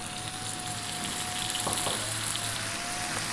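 Tomatoes, cumin powder, thyme, salt and black pepper fry in a pan over lively heat with a constant close sizzle. A few brief knocks and clatters come midway, and there is no talking.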